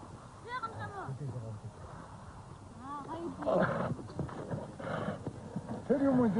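Horses move with hooves clip-clopping and thudding, mixed with whinnies and snorts, under a voice talking throughout.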